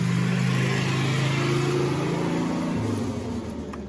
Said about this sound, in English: Running on 3 cylinders.